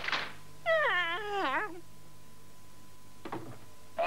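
A cat gives one drawn-out, wavering meow close by, followed by a short faint rustle and then quiet.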